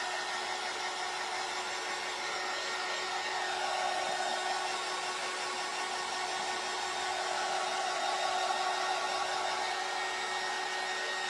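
A hair dryer blows a constant airy whoosh with a steady high whine while drying a painted craft egg, continuous and close with no talking.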